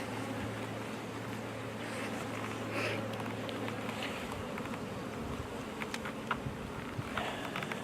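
Honey bees buzz at an open hive during an inspection, a dense continuous drone with individual bees passing close, some faint clicks and handling noises later on, no talk.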